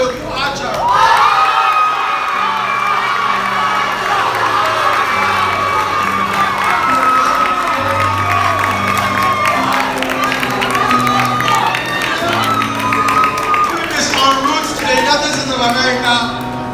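Crowd cheering and applauding at a royal graduation ceremony in Asante, a sustained roar of shouts and whoops mixed with music and a loud voice over the top.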